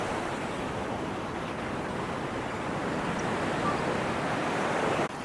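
Waves wash onto a beach at Uluwatu, Bali, a steady broad roar of surf close by with some wind, continuous and without talk, dropping slightly at the very end.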